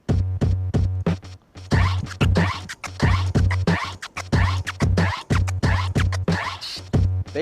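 DJ turntable scratching with transform scratches, the sample chopped into rapid stuttering bursts by a crossfader, repeating in quick rhythmic phrases, loud and close with no talking.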